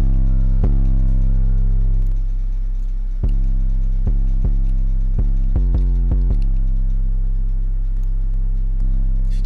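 A heavily distorted 808 bass made in FL Studio plays as loud, booming low notes, struck in an uneven pattern with a quick burst of repeated hits near the middle and long sustained tails.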